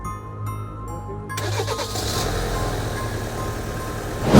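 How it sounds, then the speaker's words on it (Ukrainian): A car engine cranks and catches after a booster is connected at an auction terminal, then settles into a steady rumbling idle, close and fairly loud. "Я взяв другий ключ, підключили бустер, він завівся."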